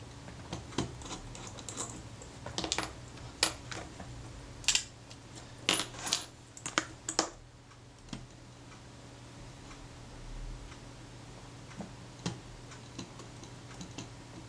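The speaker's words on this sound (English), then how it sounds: "I'll remove the screws from the strap plug at the other end of the top" Tiny screws come out of the strap plug on a Retina IIIC type 028 N camera, producing soft, close ticks and small metallic clicks in scattered clusters, with quiet gaps between them.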